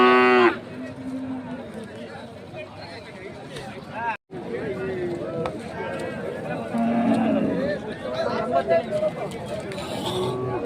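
Cattle and calves at a weekly cattle market in Hosadurga low in long moos, several calls near and far over a steady crowd murmur, with people talking close by throughout.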